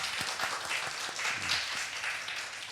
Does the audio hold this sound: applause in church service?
yes